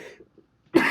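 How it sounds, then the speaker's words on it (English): A single short, close cough bursts out sharply after a near-silent pause, following a few faint low sounds. "A little cough."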